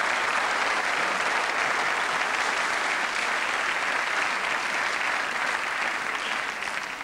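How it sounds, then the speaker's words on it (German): A TV studio audience on the German show Wetten Dass applauds, a loud, even roar of many clapping hands sustained for about seven seconds and fading a little at the very end. "müsste auch noch mal ein Applaus vielleicht kommen"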